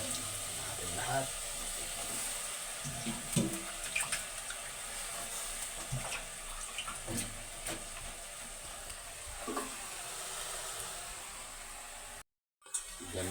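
Water poured into a cooking pot of vegetables for chicken pinakbet, a steady rushing splash that runs continuously at close range, with no talking over it.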